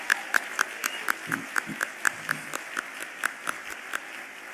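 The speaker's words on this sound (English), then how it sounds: "Let's give them another round of applause." Audience applause for a choir at an awards luncheon, heard as a handful of distinct, evenly spaced claps ringing out in a loose rhythm over a quiet room rather than a full ovation.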